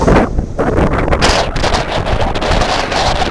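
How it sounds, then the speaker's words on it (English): Strong wind buffeting the microphone on a beach, loud irregular rumbling gusts with a roaring whoosh over faint surf, steady throughout with no talk. "The wind is unreal."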